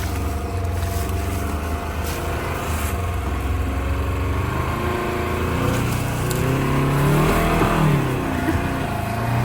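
A Polaris UTV climbs a creek embankment on a trail ride, its engine droning and then revving up with rising pitch as it strains over the bank. No one talks.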